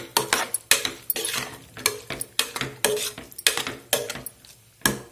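A spoon stirs cooked cluster beans gojju in a pot just opened from a pressure cooker, giving a close, steady run of clinks and scrapes against metal, with no talking.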